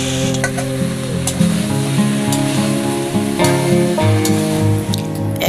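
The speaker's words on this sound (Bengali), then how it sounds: "এবার এগুলিকে আরো 2 মিনিট কষিয়ে নেব।" Mixed vegetables for a five-vegetable sambar are sautéed in a pan, a continuous loud sizzle with scattered clicks of stirring and a low background hum, steady throughout with no speech.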